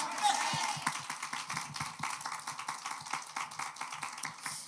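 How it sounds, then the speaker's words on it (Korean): A church congregation applauds during a Sunday morning worship service, a dense run of overlapping hand claps sustained at steady loudness throughout, with a faint voice beneath. "우리 하나님께 영광의 박수 올려드립시다"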